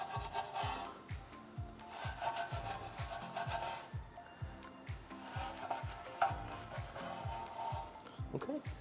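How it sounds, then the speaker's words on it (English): Steady back-and-forth brush scrubbing on a car wheel barrel, cleaning out brake dust during a wash, a rhythmic rubbing that repeats about twice a second, close up and fairly loud, with no talking. "you have the other brush for doing the barrel"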